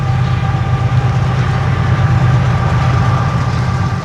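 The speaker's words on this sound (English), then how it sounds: "shout out to the train" A train passes close by, a loud, steady low rumble and drone with a faint tonal whine, continuous throughout.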